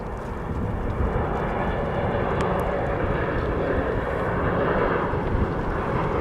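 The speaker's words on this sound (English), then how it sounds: "Priority is Airbus A320 from Montreal," Air Canada Airbus A320 airliner arriving from Montreal, heard as a steady, loud broadband jet roar that holds level throughout with no talk.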